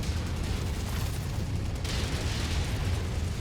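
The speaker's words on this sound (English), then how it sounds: "I'm getting showered with missiles over here." Missile explosions in the mech combat game MechWarrior 5: Mercenaries, heard as a dense, continuous low rumble of blasts and booms that stays steady and loud for the whole stretch, with no talking.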